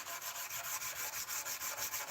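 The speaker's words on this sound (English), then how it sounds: "the hand sanding has to be really well done, really even, and I have to bring it up to about 600 grit for something like a Damascus blade" A Damascus knife blade is hand sanded, with close, rhythmic rubbing strokes of abrasive on steel repeating about every quarter second in an even, hissing back-and-forth pattern.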